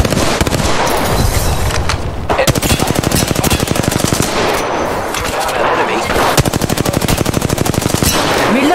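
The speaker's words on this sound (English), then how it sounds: "Listen up, I'm getting shot at!" Rapid gunfire in a video game fills the whole stretch, with dense automatic bursts and brief pauses aimed at the player, loud and close against other game noise.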